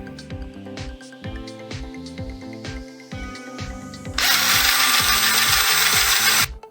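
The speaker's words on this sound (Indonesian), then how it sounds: "Pasang beberapa ikat kabel pada pensil, masukkan ke bor, dan Anda akan memiliki mixer darurat untuk jumlah kecil." A cordless drill spins cable ties fixed on a pencil as a makeshift mixer, giving rhythmic ratcheting whirs, then a loud continuous high-speed whirl near the end.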